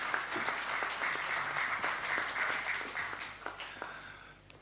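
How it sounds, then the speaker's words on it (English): Crowd at a mayoral candidates' debate in Palmerston North applauds new Māori ward candidates, steady moderate clapping that thins and fades out toward the end. "a round of applause, please, for our new Māori ward candidates"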